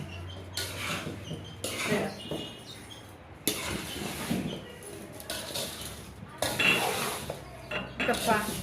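Coarse salt is mixed by hand into cut raw mango pieces in a metal vessel, giving repeated rough scraping and clinking bursts, close and moderately loud, with brief pauses between.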